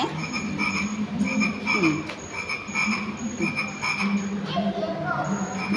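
Frogs croak loudly and continuously in an aquarium tunnel at Wako, Prachuap Khiri Khan, with rasping, overlapping calls repeating close by against a steady background hum.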